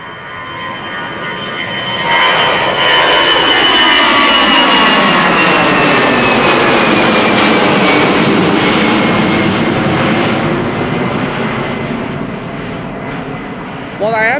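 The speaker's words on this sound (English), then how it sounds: "this is Air Arabia Morocco, which has overtaken the A350" An 11-year-old Air Arabia Morocco jet departs Amsterdam Schiphol in a loud, close pass: the engine roar swells in over about two seconds, holds with a sweeping whine, then slowly fades away.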